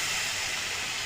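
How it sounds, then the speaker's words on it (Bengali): Green chicken frying in a paste of coriander, mint and spinach, giving a steady close hissing sizzle that runs unbroken and fairly loud through the short moment, with no voices. "আর এখানে পেস্ট দিয়ে কষানো চলছে।"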